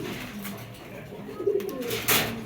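A Spanish pouter pigeon coos close by, a low, throaty, rolling murmur repeated over a couple of seconds with a few faint rustles.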